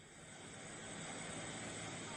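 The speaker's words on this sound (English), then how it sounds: "A helicopter drops lime into the river to try and neutralize the acidity from the spill" A helicopter flying over a river to drop lime after an acid spill gives a steady broadband engine and rotor roar that swells slightly in loudness, heard alone without talking.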